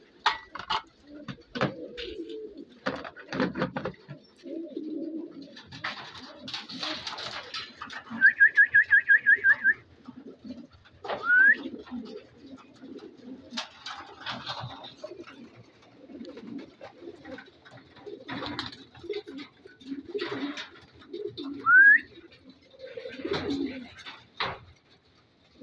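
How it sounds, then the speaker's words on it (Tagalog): Pigeons coo in soft, scattered bursts among quiet rustles and clatter, with a few brief whistle-like chirps mixed in. "Ay, bumalik ba yun o ibang kalapate?"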